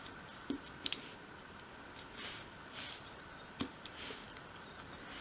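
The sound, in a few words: knife cutting through wood in small cuts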